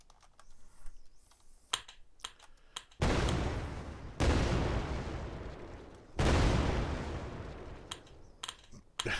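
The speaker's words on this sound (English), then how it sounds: "the self-destruct on them is a destructive explosion." Seeker mines in an Unreal Engine 4 game self-destructing, several loud roaring explosion blasts a few seconds apart, each with a long rumbling decay, separated by sparse small clicks and impacts, no voices.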